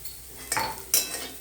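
Bitter gourd slices being sautéed in a pan give two quick scraping clatters of a spatula against metal over a faint background, each a short burst.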